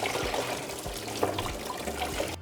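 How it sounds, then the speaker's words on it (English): Soaking water drains off a pot of soaked dried beans, a continuous trickling and splashing pour with small gurgles, close and fairly loud, no talk. "we're going to remove the water"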